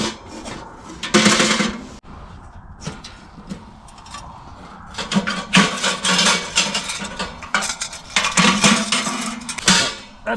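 Metal stove pipe sections for a hot tent stove being handled and fitted, with bursts of loud, close scraping, rubbing and clanking between quieter pauses.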